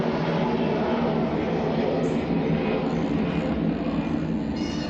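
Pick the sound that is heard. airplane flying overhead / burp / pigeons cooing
airplane flying overhead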